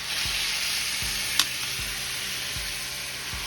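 Spaghetti squash sizzling in a small, crowded skillet, a constant bright hiss with soft regular thumps of stirring and one sharp tap of tongs.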